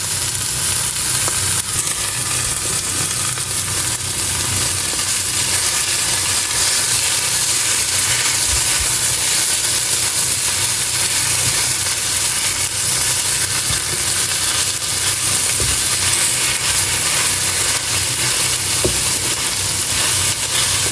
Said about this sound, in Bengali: এখন আরও ভালোভাবে আমি বেজে নিব কিছুক্ষণ, তারপরেই আমাদের ভর্তা রেডি।